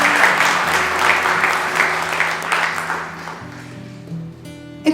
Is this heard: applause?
yes